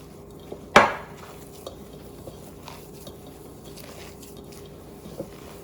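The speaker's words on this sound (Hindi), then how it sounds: "मिक्स करें अच्छी तरह से मिक्स करें।" A spoon stirs spices into a potato and egg mixture in a pan, opening with one sharp metallic knock and then soft, sparse scraping and light clinks under a low background hum.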